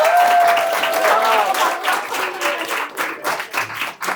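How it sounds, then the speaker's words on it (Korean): An audience at a school learning-sharing presentation day claps together, a full burst of applause that thins into scattered, uneven claps with a few voices mixed in as it fades. "박수 한 번 더 주시고"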